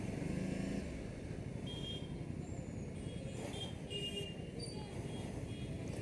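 A Ducati Scrambler Sixty2 motorcycle ridden through city traffic in Kathmandu, a steady engine rumble mixed with surrounding road noise and distant horns, continuous and close.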